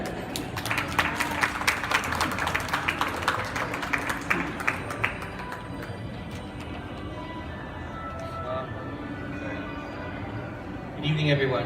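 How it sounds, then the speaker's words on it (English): Audience applause at a comics exhibit opening in a mall, with a burst of clapping in the first half that fades and gives way to a speaker's voice. "let us all give a round of applause to the grandson of the King of Comics, Mr. Fransico Coching III."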